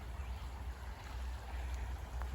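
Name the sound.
small creek flowing beside a walking trail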